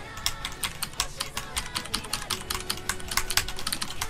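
Rapid, steady keystrokes on a computer keyboard clack close by during an osu! rhythm game duel, a dense run of sharp clicks with no talking.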